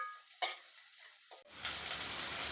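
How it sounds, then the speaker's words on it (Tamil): Small shallots dropped into hot sesame oil set off a sudden loud sizzle that keeps crackling steadily and close, with a few light scrapes beforehand. "அந்த எண்ணெயிலேயே நான் வெங்காயத்தை வதக்குறேன்"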